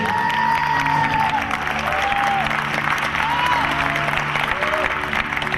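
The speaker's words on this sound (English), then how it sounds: "Let's give them all a big round of applause, please." Dense, sustained applause from a large audience at a Star Trek event, steady and loud throughout, mixed with scattered cheers and whoops from the crowd.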